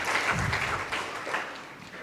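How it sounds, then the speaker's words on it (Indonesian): Church congregation applauding during a Sunday worship service, a dense, steady wash of clapping that stays loud for the whole stretch and eases slightly toward the end, with no voices over it. "berikan tepuk tangan meriah buat Tuhan kita"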